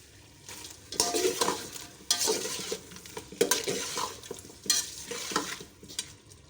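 Whole cumin seeds and a bay leaf fry in oil in a pan while a spoon stirs them, giving repeated scraping strokes over a soft sizzle, close and moderately loud, with no talking.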